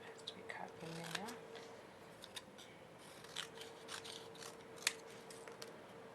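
Scissors snip paper for an art journal page in a quiet indoor room, making a few soft, close cutting and rustling sounds while a voice talks quietly over them.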